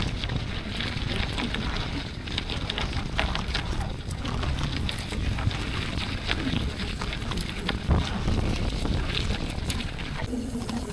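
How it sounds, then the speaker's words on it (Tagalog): Strong wind roars and buffets steadily against the microphone while cycling, a dense, continuous rush with no breaks throughout. "Grabe, lakas ng hangin."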